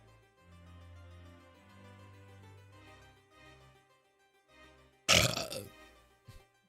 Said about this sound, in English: Check that burp out, huh?